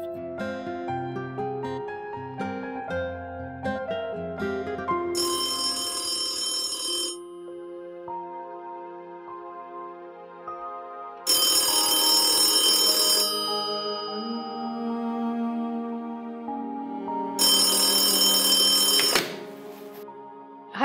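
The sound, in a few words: telephone ringing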